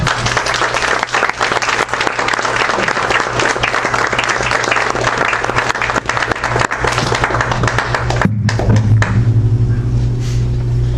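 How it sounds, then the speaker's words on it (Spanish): Loud, sustained applause from a crowd at a Catholic concert, a thick wash of clapping that continues for several seconds before stopping abruptly, leaving a low electrical hum. "Vamos a hacer un fuerte aplauso a nuestro Señor."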